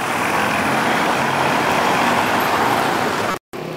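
Dense, loud street traffic roars without a break along a busy shopping street, engines and tyres blending into a constant wash before a sudden brief cut near the end.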